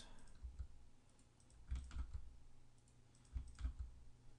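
Computer keyboard keys tapped in a few short bursts, soft clicks clustered around two moments with quiet gaps between, close by and fairly faint while working in Blender.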